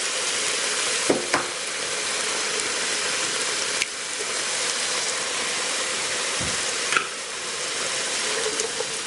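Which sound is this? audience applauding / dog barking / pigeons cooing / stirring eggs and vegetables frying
stirring eggs and vegetables frying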